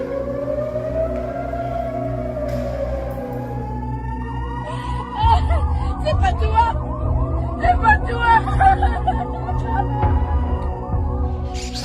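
An air raid siren wails over Tel Aviv in slow, rising and falling tones, loud and carrying, while traffic and commotion rumble beneath and voices come through in the background.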